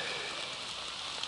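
Rain falls at night on the Darlington trail shelter along the Tuscarora Trail, a soft, dense, steady patter, faint and continuous with no voices.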